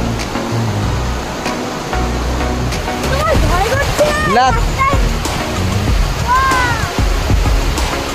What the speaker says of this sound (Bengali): দেখুন নদী কি প্রবল বেগে বয়ে চলেছে, আর এখানে হাওয়াও দিচ্ছে প্রচণ্ড